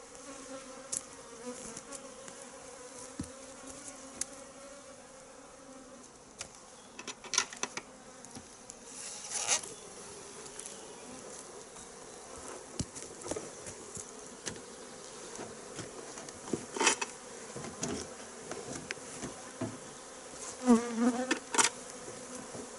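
A honeybee swarm buzzes around a hive during spring swarm management, after settling in a second hive. Steady, dense buzzing runs throughout with scattered louder passes of individual bees close by. No one speaks.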